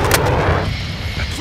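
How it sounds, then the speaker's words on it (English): Mortar strike explosions in a video game, a heavy low blast rumbling and fading over a short moment while a voice talks over it. "Mortar strike inbound now."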